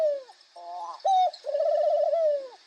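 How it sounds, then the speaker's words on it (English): Doves at a desert museum coo close by in a short sequence: a brief call, a pause, a steady note, then a longer rolling, wavering coo, heard clearly with no talk. "These are some doves."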